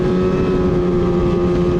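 A Crossfire 700 snowmobile engine drones steadily and loudly at a constant pitch while riding along a Northern Michigan trail.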